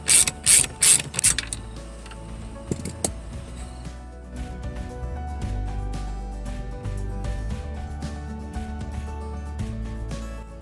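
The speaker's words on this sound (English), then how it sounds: "We're gonna use a 10mm socket to unscrew this." Ratchet with a 10mm socket turning the fuel filter bolt on a Mercedes-Benz GL450, a quick loud burst of clicks up front, then steady lighter ratcheting clicks running under a low mechanical hum for the rest.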